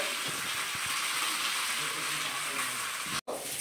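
Fish fries in oil on a multimaker at a Bangalore cake show, a steady close hiss and sizzle running throughout with a few small clinks, then a brief dropout near the end.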